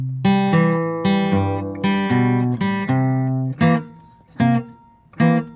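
Fingerpicked blues on acoustic guitar, thumb and index finger alternating. Plucked notes and bass strums ring in a steady rhythm, close and clear with no voices, then thin out into a few separate plucks.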